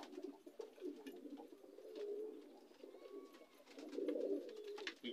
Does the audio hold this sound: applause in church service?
no